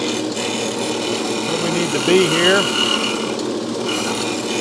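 A Sellers 6G drill grinder grinds a drill bit with a steady, continuous rasping hum throughout, swelling briefly as the bit is pressed in, while someone speaks over it.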